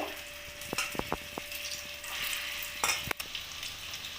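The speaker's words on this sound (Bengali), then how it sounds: "পনিরের বলগুলো আমি একটা একটা করে তেলের মধ্যে দিয়ে দেবো" Paneer balls for a vegetarian paneer kofta curry are slipped one at a time into hot oil, giving a steady close sizzle broken by several sharp clicks and splashes as each ball drops in.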